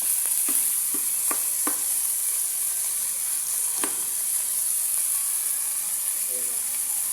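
Soy sauce and a little vinegar hit a hot pan, a loud continuous sizzle and steam hiss dominating close up, with a few brief utensil knocks against the pan in the first seconds.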